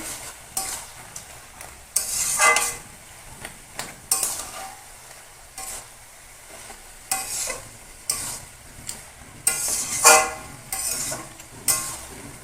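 A spoon stirs a pumpkin curry with a rui fish head in a pan, giving repeated scraping strokes over a soft sizzle of frying, close and moderately loud, with no talking.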